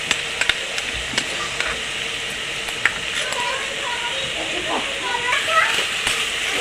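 Poppy seed paste, green chili and tomato are stirred into snake gourd frying in a pan, giving a steady hiss and sizzle broken by sharp scraping clicks of the spoon.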